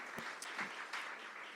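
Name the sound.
audience applause at a town hall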